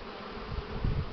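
Buckfast honeybees, a non-purebred line with an island-bred queen mated in Belarus, fly at the hive in spring, making a steady, close, low buzzing hum that swells slightly toward the end.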